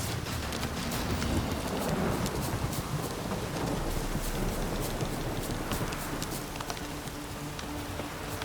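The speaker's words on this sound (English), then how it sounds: "This downpour's a bastard" Heavy rain pours down in The Witcher 3: Wild Hunt, a steady, dense hiss of drops hitting the ground with a low rumbling undertone. It continues unbroken throughout, with no voices.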